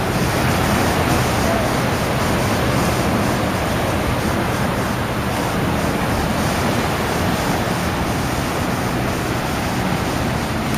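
Waves and surf on a beach, a steady broad roar of breaking water mixed with light wind buffeting the microphone throughout.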